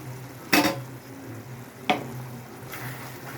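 Curry with ginger garlic paste cooking down in a pan, a soft continuous bubbling sizzle with two distinct metallic spoon clinks against the pan, close up and without voices.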